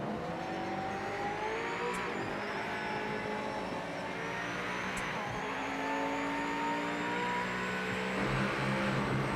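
A race car engine roars in the Project Motor Racing video game on PS5 while the damaged car pulls to the left. A loud, steady engine drone with shifting pitch runs throughout, with no talking.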